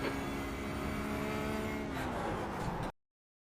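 A Porsche GT3 R race car at Interlagos in the sim racing game iRacing drones loud and close. The engine roar is steady, shifts in pitch partway through as another car runs alongside, then cuts off abruptly.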